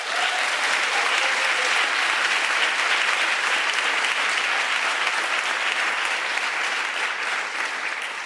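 Sustained audience applause at an evening program event, thick uniform clapping from a large crowd that stays loud and steady from start to finish before easing slightly.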